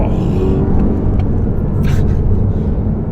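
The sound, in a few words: BMW M5 Competition 2020 accelerating flat out uphill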